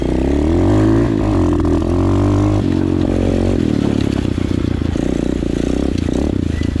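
An SSR 125 pit bike engine running close after being clicked into gear, a loud steady buzzing drone that shifts pitch as it pulls away and revs.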